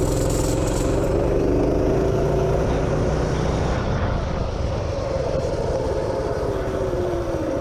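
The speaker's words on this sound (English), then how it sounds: "You can hear the governor kick in, and the engine kind of starts to go from raising up and idle to kind of leveling out." A 212 minibike engine at full throttle roars loud and close, its pitch climbing and then leveling off as the governor kicks in.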